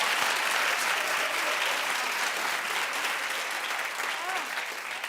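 Studio audience clapping steadily on a daytime talk show set, a dense, loud wash of applause sustained for about five seconds with a few voices mixed in.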